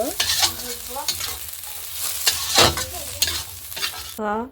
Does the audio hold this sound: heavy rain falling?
no